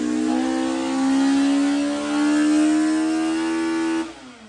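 A loud K20A engine swapped into a Toyota MR2 Spyder revs with no exhaust fitted and holds high for several seconds with a raw, unmuffled rasp, then the revs drop off sharply near the end.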